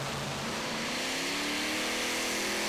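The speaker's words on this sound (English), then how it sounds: "Into the RPM on that, the engine, really strong run, nice straight run down the track." A pulling tractor's engine roars loud and steady during a tractor pull run down the track, its pitch climbing as the revs rise. The engine is heard close and alone, with no voices over it.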